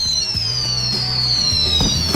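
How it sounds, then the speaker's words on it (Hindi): Fireworks go off nearby in crackling, popping bursts over a steady whistling rise, loud and continuous. "असली आतिशबाजी।"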